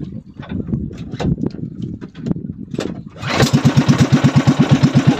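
After a few seconds of clattering, sputtering attempts, a small engine catches and settles into a fast, steady putter, loud and close.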